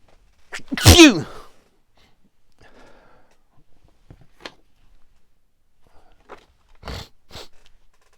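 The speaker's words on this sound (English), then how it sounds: "I don't know where that sneeze came from" A single loud, sharp sneeze bursts out near the start, followed by faint rustling and a few soft knocks and handling noises.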